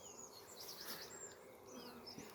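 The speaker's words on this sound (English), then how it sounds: "you can see some of the bees are coming in with pollen sacs on them" British black honey bees buzz at a hive entrance early on a March morning, a steady soft hum with a few individual bees whining past close by.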